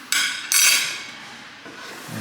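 A Pyrex glass bowl is handled with a spoon in a home kitchen: two bright, ringing clinks close together, each fading with a glassy shimmer, followed by quieter handling noise.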